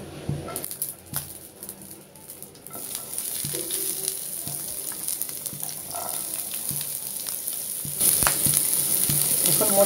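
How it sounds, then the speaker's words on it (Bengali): Onion, garlic and green chillies fry in a pan with a steady, close sizzle that grows louder toward the end, with occasional stirring clinks. "দিয়ে দিব এখানে ভাজার জন্য পেঁয়াজ, রসুন আর কাঁচামরিচ।"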